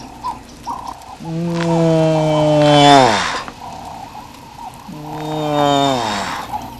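A person imitates a lion roar with their voice, giving two loud, drawn-out growling roars that rise and then sweep downward, with a short pause between them.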